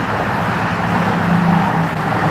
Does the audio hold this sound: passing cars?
yes